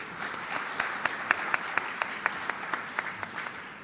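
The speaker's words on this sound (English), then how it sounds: "Please welcome him with a warm round of applause" Audience at an academic research competition ceremony gives a warm round of applause, many hands clapping steadily with a few loud, regular near claps standing out above the crowd.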